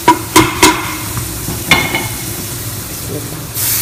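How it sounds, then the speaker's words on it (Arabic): Chicken pieces dropping into hot oil in a pan, giving a few sharp sizzling bursts and clatters over a steady low frying hiss, with a brief rise of hiss at the end. "الحين حبدأ احط الدجاج."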